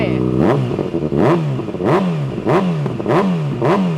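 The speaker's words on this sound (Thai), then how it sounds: "ตัวปลายท่อที่เป็นคาร์บอนแท้นะครับ เป็นแบบสลิปออน รอบเดินเบานิ่งนะฮะตาเร่งเป็นยังไง" A 2019 Kawasaki ZX6R with a carbon slip-on exhaust revs repeatedly, about six sharp throttle blips rising and falling in a steady rhythm, loud and close.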